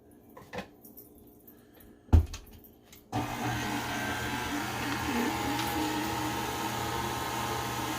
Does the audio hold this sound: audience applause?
no